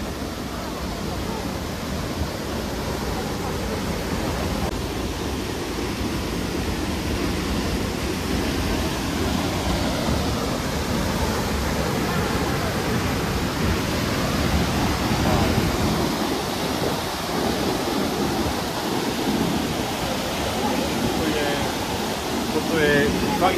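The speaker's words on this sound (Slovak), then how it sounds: "Voda naráža na skaly enormnou rýchlosťou" A powerful waterfall in Khao Yai national park crashes onto rocks, filling the air with a dense, continuous roar from close range while a voice speaks over it.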